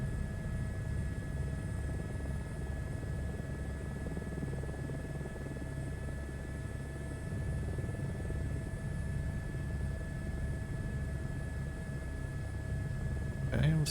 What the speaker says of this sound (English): I love the sound of helicopters. Yeah, rumble.